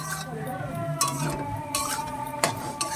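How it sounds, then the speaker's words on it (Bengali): A utensil stirs green cauliflower pieces in a pan, giving repeated close scrapes and light metallic clinks with faint sizzling beneath. "এবারে ভালো করে নাড়াচাড়া দিতে হবে"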